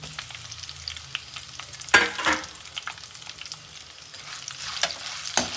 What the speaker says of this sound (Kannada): ಚೆನ್ನಾಗಿ ಆಯಿಲ್ ಚೆನ್ನಾಗಿ ಡೀಪಾಗಿ ಫ್ರೈ ಆಗಬೇಕು